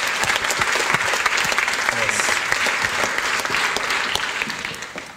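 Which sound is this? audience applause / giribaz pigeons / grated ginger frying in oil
audience applause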